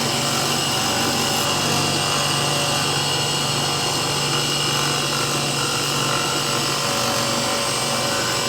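A power tool grinds and shapes the handle of a hand-forged puukko knife. It gives a continuous, loud, steady abrasive whine and hum that runs close and unbroken throughout, with no talking.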